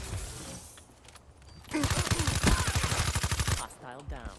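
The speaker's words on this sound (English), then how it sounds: "Somebody's shooting us from behind." Rapid automatic gunfire in Call of Duty: Black Ops 3, a loud sustained burst of closely spaced shots lasting about two seconds, with quieter game noise and a brief voice before and after.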